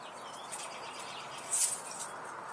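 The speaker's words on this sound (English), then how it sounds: "I hear a northern cardinal, and I heard a robin" Outdoor birdsong from a northern cardinal and an American robin, with faint, thin chirps and whistles over a soft background hiss and one brighter, louder call near the middle.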